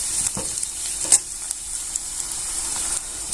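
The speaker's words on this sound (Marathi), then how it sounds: "जोपर्यंत सिल्वर कलर होत नाही तोपर्यंत आपण कांदा छान असा परतून घेऊया" Chopped onion sautéing in a pan for a Maharashtrian dal-rice dish, giving a soft steady sizzle with scattered light clicks and stirring scrapes.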